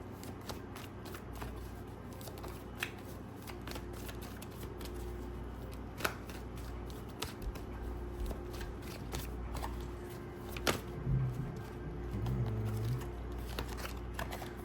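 An old tarot card deck being shuffled by hand, soft papery riffles and taps close up, continuing steadily and quietly with faint background hum.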